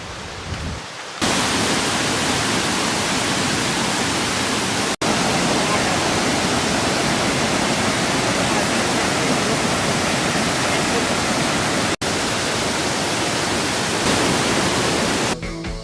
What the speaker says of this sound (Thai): เป็นน้ำตกที่สวยงามมากอีกแห่งหนึ่ง